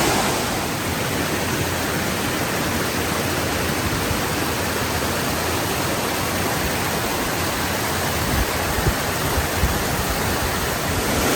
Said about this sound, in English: Like a nice foreground cascade in front of the falls.